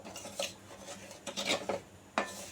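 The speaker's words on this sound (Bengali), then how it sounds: "আমি সুজিটাকে একটু ব্রাউন করে, হালকা ব্রাউন করে ভেজে নেব" Semolina stirred and roasted in a pan for sweet halwa, giving scraping, rasping strokes of a spoon against the metal in several separate bursts, close and moderately loud, with no talk.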